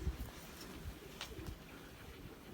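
A Belgian racing pigeon coos softly and low, a few muffled throaty calls close by against faint background noise.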